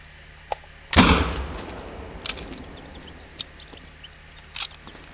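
A single rifle shot in The Hunter: Call of the Wild rings out loud and sharp, then fades into a quiet outdoor ambience broken by a few faint clicks.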